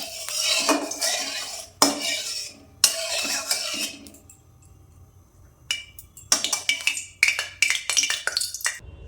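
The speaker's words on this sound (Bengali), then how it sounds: "কড়া গরম হয়ে এসেছে, এর মধ্যে সরষের তেল দিয়ে দিলাম। দিয়ে নেড়ে দিলাম।" A metal spoon scrapes and clanks in a hot pan as mustard oil is stirred in, with bursts of rattling strokes, a quiet pause in the middle, then more rapid clattering, close and loud.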